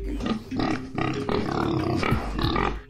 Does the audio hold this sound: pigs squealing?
yes